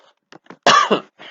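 A single sharp, close cough bursts out after a few faint breathy sounds, followed by a softer exhale.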